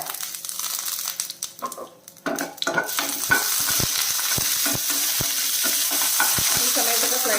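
Dried chillies and curry leaves with cumin fry in hot oil in a pan, giving a steady close sizzle, with a spoon stirring and scraping at the start and sharp crackles popping throughout.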